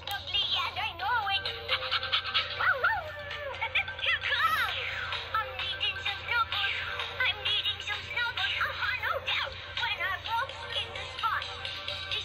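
A dancing toy puppy's high-pitched electronic yips and warbling tones repeat over a jingly tune, close and steady, with a voice occasionally underneath.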